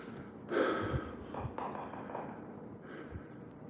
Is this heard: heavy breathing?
yes